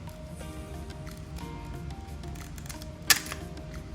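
A Roccat computer mouse's plastic shell is pinched at the side and pried loose, giving one sharp, close snap near the end over a steady low background hum.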